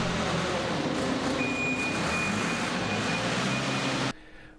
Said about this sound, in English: We finish at the barley with the trusty 3CX shoving some grain.